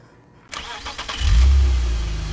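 A 2007 Mazda Miata with a check engine light on cranks and starts close by, its engine quickly rising into a high, loud rev that holds steady.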